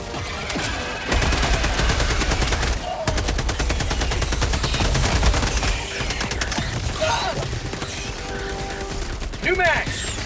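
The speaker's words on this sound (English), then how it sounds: "Mag's empty!" Sustained automatic gunfire in the video game Helldivers 2, dense rapid bursts that run loud and continuous, with short pauses and mechanical clicks between volleys.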